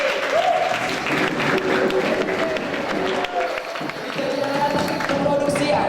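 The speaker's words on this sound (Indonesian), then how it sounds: "Kita berikan tepuk tangan yang paling meriah" Audience applause for the musicians at an Indonesian stage performance, clapping mixed with a loud voice and sustained tonal sound, likely music or a host speaking over it, continuing throughout.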